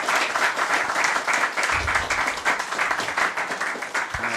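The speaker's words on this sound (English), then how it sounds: "Yeah, round of applause." Audience applause after a talk at a tech meetup, dense and steady clapping from a room of listeners, moderately loud, with no speech.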